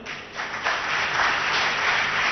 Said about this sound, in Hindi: एस के सुराणा साहब, जोरदार तालियां।